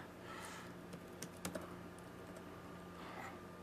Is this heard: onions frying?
no